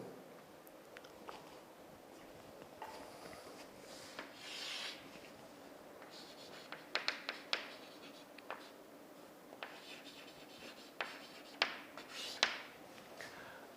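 Pen writing by hand on paper, noting steel tension test data: quiet, close scratchy strokes and small taps in irregular bursts, with no speech.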